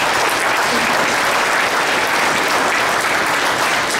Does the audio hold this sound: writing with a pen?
no